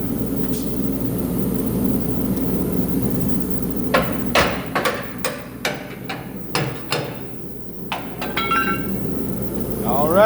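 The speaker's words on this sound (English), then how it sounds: "Now a little tappy tappy" Light hammer taps ring out on Chevy C10 truck axle parts, around a dozen sharp metallic strikes in an uneven rhythm over a low background hum.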